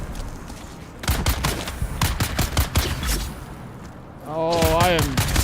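Rapid bursts of video game gunfire crack in irregular clusters, sharp and close, followed by a rising whine, with a voice briefly talking over the action.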